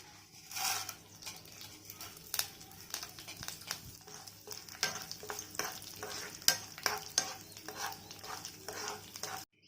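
Seeds crackle and sizzle in hot oil, with scattered sharp pops and a spoon stirring against the pan, close and fairly quiet.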